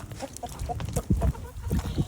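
Chickens cluck inside a backyard chicken coop, a short run of close, uneven clucks and soft calls with no talking.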